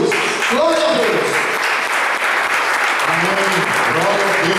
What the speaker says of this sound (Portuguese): Vamos receber o servo do Senhor com uma grande salva de palmas para Jesus.